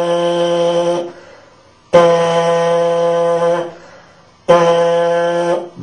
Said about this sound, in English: Then I'll simply let the lips vibrate whatever pitch they want.